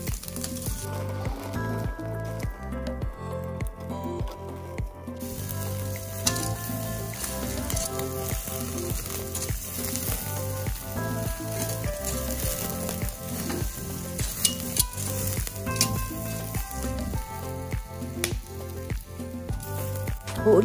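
Pork ear grilled over open flames for sisig sizzles and spits steadily as its fat drips, with a dense crackle running unbroken and close throughout.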